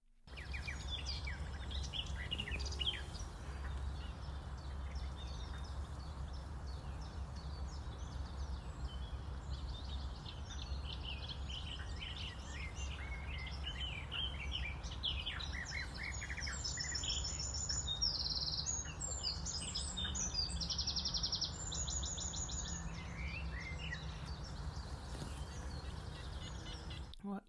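Songbirds chirp and trill continuously in extensive woodland at Gosforth Nature Reserve, several birds overlapping at mid distance over a steady low rumble of background ambience, with insect-like buzzing at times.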